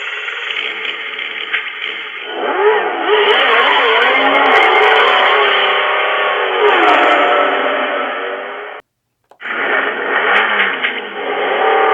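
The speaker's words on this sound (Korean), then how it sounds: "자동차 주행음입니다" A car plays its synthesized driving sound through its speakers, a steady engine-like hum that rises and sweeps in pitch, cuts out briefly near the end, then resumes.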